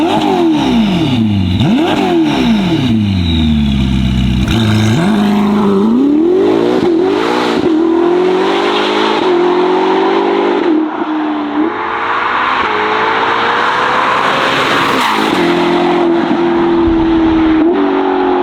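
A Novitec-tuned Ferrari SF90 XX engine revs loudly and repeatedly, its pitch swooping up and down through gear changes before settling into a sustained, rising roar.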